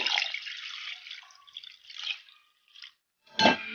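Water pours and splashes in a short close stream into mashed lentils, pauses briefly, then a final quick splash follows; no voices.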